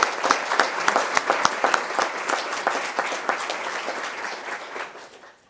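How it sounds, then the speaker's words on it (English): A room full of people applauding the Cox Mill High School Band Ensemble at a Cabarrus County school board meeting, with sharp claps that ring out loudly at first and then gradually thin and fade. "Let's give them a really resounding applause."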